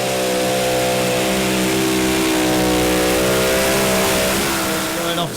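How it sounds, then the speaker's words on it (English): Four supercharged V8 Keith Black engines on the Intertechno Lambarda pulling tractor roar loud and steady at a tractor pulling championship in Brande, Denmark, a dense continuous drone that dips slightly near the end. "This is Intertechno Lambarda. 4 supercharged V8 Keith Black engines on board."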